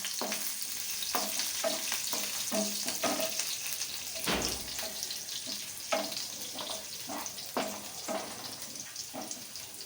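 Curry leaves and chopped red chili sizzle in hot oil with a steady frying hiss, while a spoon stirs and taps the pan in a regular rhythm, close and clear.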